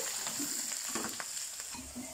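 Onions and curry leaves frying in hot oil for a curry, a soft steady sizzle with light stirring clicks from the pan, quiet and close.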